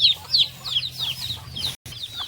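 Hens cluck in a short, repeated series of sharp, fairly close calls over a low steady background hum, from a flock of free-ranging chickens with a mother hen and her chicks.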